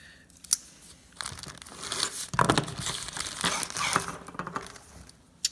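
Plastic packaging for a Ford bushing and seal kit is cut and torn open up close, with several seconds of loud crinkling and ripping and a few sharp snaps and clicks.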